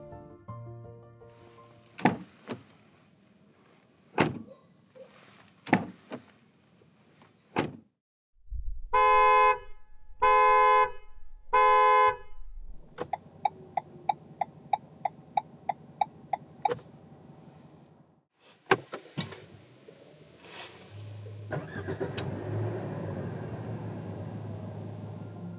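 A 2021 Renault Samsung QM6 2.0 LPe: door thumps and clicks, then three short horn honks, a run of rapid mechanical ticking, and an engine starting and settling into a quiet idle, all fairly faint with no talk.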